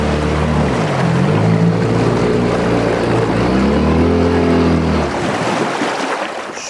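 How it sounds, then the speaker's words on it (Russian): A failing Yamaha 8 outboard boat motor runs loud and close with a steady droning hum, its pitch wavering and sagging before it cuts out near the end, the running engine carrying a harsh rattling roughness. "Ну что, смерть мотора онлайн. Видите, как он работает? Гремит."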